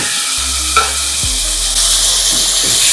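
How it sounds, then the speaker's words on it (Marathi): Cooked spinach is stirred into fried onions in a hot pan for lasting palak, with a loud, steady sizzle and occasional spatula scrapes filling the whole stretch. "कांद्यामध्ये व्यवस्थित मिक्स करून घ्यायचे पालक थोडासा परतून घेतला"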